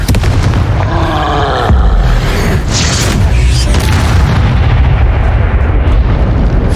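Repeated Confringo fire-spell blasts in Hogwarts Legacy: loud, heavy booms and rumbling explosions in close succession, with brief whooshing spell sounds between them and no voices.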